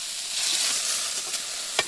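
Ivy gourd leaves and aubergine stirred as they fry in a pan: a bright, steady hiss of sizzling oil with a couple of quick spatula scrapes.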